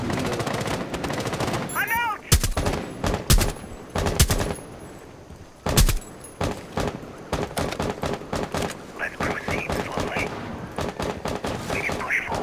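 Rapid bursts of automatic gunfire and sharp single shots in Rainbow Six Siege, a House map hostage match, loud and close with several heavy volleys, brief talk over the shooting.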